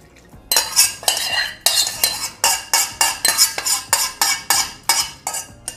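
Chocolate muesli or granola ingredients mixed in a bowl with a spoon, a rhythmic series of about a dozen scraping, rustling strokes, close and fairly loud with no talk.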